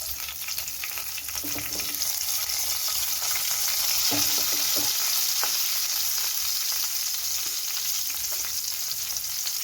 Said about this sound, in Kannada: ಎಣ್ಣೆ ಸ್ವಲ್ಪ ಬಿಸಿ ಆಗಲಿ. ಸ್ವಲ್ಪ ಸಾಸಿವೆ,